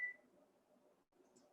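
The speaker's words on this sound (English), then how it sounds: "And now I set my timer for 10 minutes." A kitchen timer being set gives one short, clear electronic beep, followed by a faint chirp a moment later, quiet and close.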